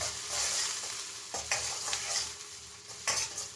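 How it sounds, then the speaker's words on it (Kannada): Brinjal (eggplant) pieces fry in hot oil, a steady close sizzle broken by a few louder bursts of stirring and scraping, with no voices. "ಚೆನ್ನಾಗಿ ಎಣ್ಣೆಲಿ ಫ್ರೈ ಹಾಕ್ಬಿಡ್ತೀನಿ ಬದನೆಕಾಯಿ"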